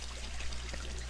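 Water pours and trickles steadily in a rainforest, a continuous close flow with no voices.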